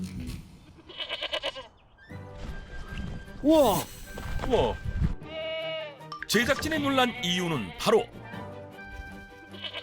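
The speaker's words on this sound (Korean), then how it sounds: "아 이거 흑염소 아닌가요?" Saanen dairy goats kept at a rural Korean house bleat repeatedly, loud and close, with several wavering calls overlapping while a narrator and other people talk over them.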